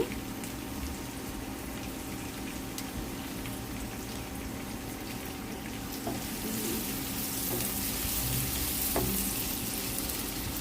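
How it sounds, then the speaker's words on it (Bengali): Chopped onion and green chili frying in oil in a pan for potato bhaji, a continuous even sizzle with a faint stirring scrape, growing slightly brighter toward the end. "এখন দিয়ে দিব পেঁয়াজ কুচি। এখন দিয়ে দিব মরিচ কুচি।"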